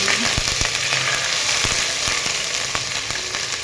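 Ginger garlic paste fries in hot oil with a loud, continuous close sizzle while making a Maharashtrian mixed vegetable bhaji, with faint stirring clicks now and then and no talking.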